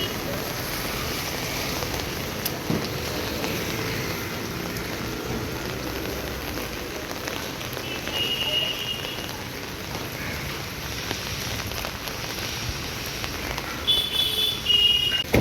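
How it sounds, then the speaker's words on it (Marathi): Heavy rain pours steadily on a busy market morning on Independence Day, a dense even hiss with no breaks, joined by a few faint higher sounds near the end. "पाऊस पण त्यातनं भरपूरच जास्त आहे."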